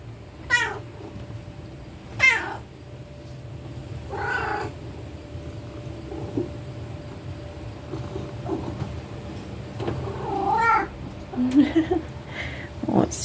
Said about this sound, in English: Such a good kitty.